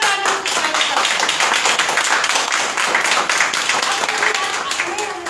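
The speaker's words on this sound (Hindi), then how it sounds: "सारे करोड़पति लोगों का मैं तहे दिल से एक बार जोरदार तालियों से स्वागत करता" Audience applause at an all-day workshop, a dense, steady wash of many hands clapping loudly together for about five seconds with no pauses.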